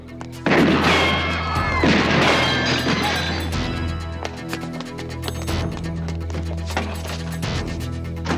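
A gunshot rings out in a TV crime drama, a sharp loud crack followed by crashing impacts and clattering debris, with ringing metallic echoes and further bangs over the next several seconds.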